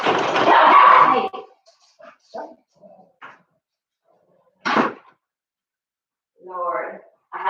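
A small, elderly female dog of about twelve barks indoors in a few sharp bursts separated by quiet gaps, upset about another dog being inside, while a person talks nearby between and over the barks.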